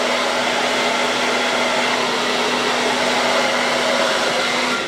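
A hair dryer on its hottest setting blows continuously over Velcro hair rollers, a loud, steady whoosh with a constant motor hum and no pauses.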